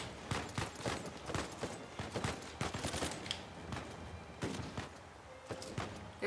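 Rapid bursts of automatic gunfire from a firefight in Uncharted 4: A Thief's End on PS4, dense overlapping shots cracking in irregular clusters throughout with no talk.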